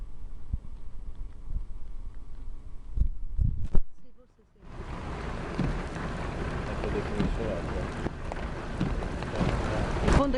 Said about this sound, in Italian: il tempo sta schiarendo ma piove ancora